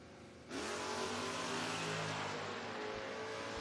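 Drag racing cars, including a 1964 Chevy II, launch at a footbrake race with an abrupt loud engine roar that rises in pitch and holds as the cars accelerate hard away, heard from the track side.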